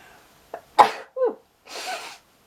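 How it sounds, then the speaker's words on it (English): A single loud sneeze bursts out with a sharp intake of breath before it, followed by a breathy exhale and a sniff. "I'm about to sneeze"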